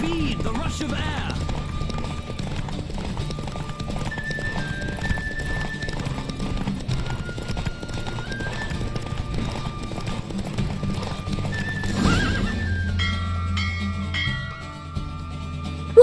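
Rapid galloping hoofbeats pound steadily in The Witcher 3: Wild Hunt, broken by a loud horse neigh, with game tones and other sounds layered over the run.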